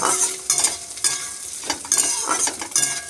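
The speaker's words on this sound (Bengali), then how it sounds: "নারকেলগুলো আমি হালকা করে ভেজে নিয়েছি।" Shredded coconut being lightly fried in a pan for a chana dal recipe, a close crackling sizzle broken by repeated scraping stirs of a spatula about twice a second, with no voices.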